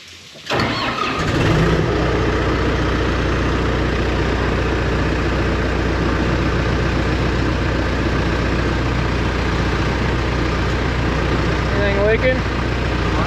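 A John Deere 550H dozer's engine turns over and catches within the first second, then settles into a steady, loud diesel idle close by for the rest of the clip, with people speaking over it.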